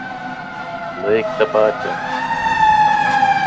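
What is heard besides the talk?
fire truck siren passing by house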